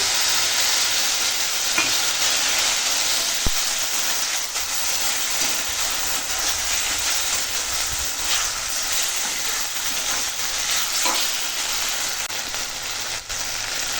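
Okra frying in a pan with spice paste just added, a steady broadband sizzle running evenly throughout with faint scattered stirring clicks and no talk.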